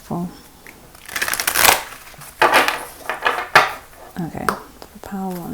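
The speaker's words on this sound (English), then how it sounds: "So, actually let me give it one more shuffle." A deck of oracle cards being shuffled by hand in several quick riffling bursts, close up, with a person talking between and over the shuffles.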